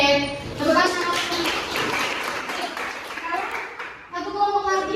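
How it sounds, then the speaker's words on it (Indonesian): A classroom of students claps hands together for a group that has just presented, a short burst of fairly close clapping mixed with children's voices talking over it. "Oke, tepuk tangan."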